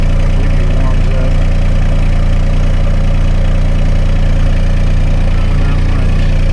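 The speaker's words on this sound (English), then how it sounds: "So let's start this thing up and we'll see what happens here." A Kubota RTV X900 utility vehicle's engine idles steadily and close by, a continuous low rumble with faint knocking, while it warms up before the thermostat opens.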